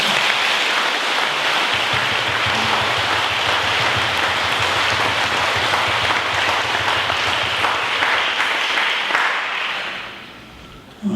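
A congregation at a Catholic blessing Mass for a new art center applauds the priest: strong, continuous crowd clapping holds steady for several seconds, then fades out quickly near the end.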